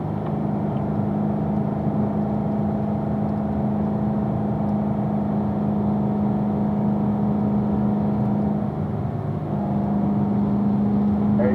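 A car accelerates steadily around a slippery track during a performance driving school session, its engine holding a loud, continuous drone throughout with no speech.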